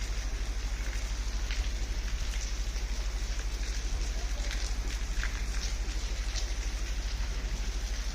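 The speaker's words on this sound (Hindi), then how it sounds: "देखिए कितनी तेज बारिश चली है।" Heavy rain pours down steadily outdoors near a tower and parked buses under tarps, a dense continuous hiss with no speech over a low constant hum.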